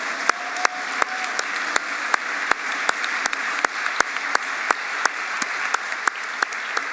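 Sustained audience applause at a celebration event honoring business honorees over fifty, steady crowd clapping throughout with a few sharp, louder claps standing out near the front.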